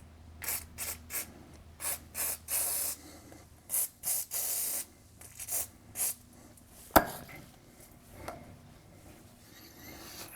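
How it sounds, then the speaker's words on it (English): WD-40 is sprayed in a series of short, sharp hissing bursts onto the exhaust bolts of a right-hand-drive Honda S2000, close up. A single metallic knock follows near the end. "some WD-40 in there to see if that will help break the bolts here"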